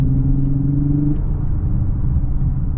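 A 2024 Lexus LS 500 F Sport engine pulling in Sport Plus mode, a deep steady rumble heard from inside the car, with a brief tonal hum that fades after the first second.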